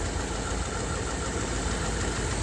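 A 1959 Edsel Ranger engine with solid lifters idles in a steady, loud, close drone, with a fast ticking from a tight or failing valve.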